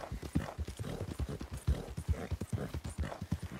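Horse hooves clip-clop in a steady, quick rhythm while riding in the Red Dead Redemption 2 video game, clear and close throughout.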